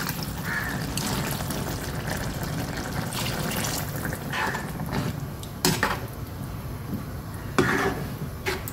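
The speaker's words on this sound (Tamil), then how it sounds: "மிக்சியை கழுவி தண்ணி ஊற்றிக்கலாம்." Water splashes and trickles while a mixer grinder jar is rinsed and the water poured into a simmering kuzhambu of fresh field beans and sweet potato, a steady wet wash broken by a few sharper pours and clinks.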